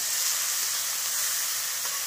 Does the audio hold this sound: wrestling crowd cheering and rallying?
no